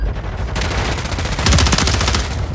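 Rapid automatic gunfire in the video game Warzone 3 on Rebirth Island, dense overlapping bursts that swell louder partway through, close and sharp with no talk over it.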